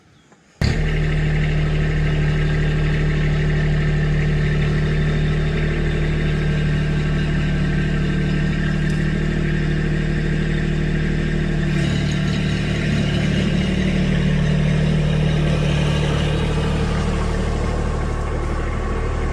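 A 2019 Kubota B2601 compact tractor engine runs steadily and loud and close throughout, a constant low idle-like drone with a slight shift in tone partway through, no talking.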